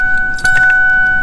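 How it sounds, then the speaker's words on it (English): A new car key slides into the ignition and turns, giving a short metallic jingle and click near the middle, with a steady electronic tone running underneath throughout. "Insert new key. Turn on."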